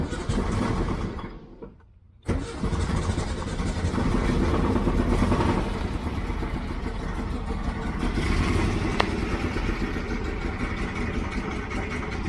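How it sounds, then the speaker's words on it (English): 1967 VW Type 3 engine cranking, dropping briefly to near silence, then catching and settling into a steady, fairly close running rumble. "So moment of truth, I'm gonna start the engine"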